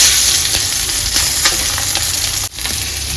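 Small nivate fish fry in a pan with a loud, dense, steady sizzle, close by, with faint stirring scrapes and a brief dip in the hiss near the end.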